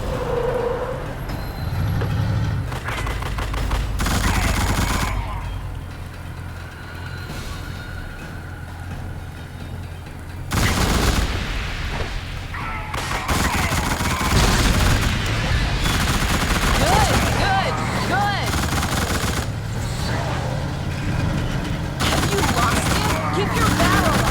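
Bursts of rapid gunfire from The Suffering: Ties That Bind ring out loud and close over a rumbling vehicle engine, with dense volleys coming in clusters across the scene.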